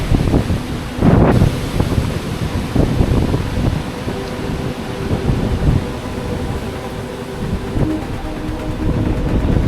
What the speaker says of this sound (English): What a wind!